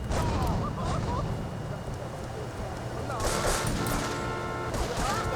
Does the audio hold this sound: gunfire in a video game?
yes